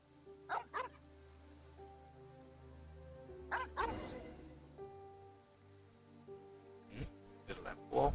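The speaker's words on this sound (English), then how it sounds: "Why the barking in the cemetery?" A dog barks in a rainy cemetery in Genshin Impact, a few short barks at a moderate distance over steady rain patter and low ambient hum.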